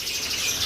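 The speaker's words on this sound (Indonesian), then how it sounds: "Ada juga ini Zebra Fin sama emprit Jepang" Zebra finches and Japanese munias kept as pet birds call in a steady, thin high chatter of chirps that runs through the whole short moment, fairly loud and close, with no voices.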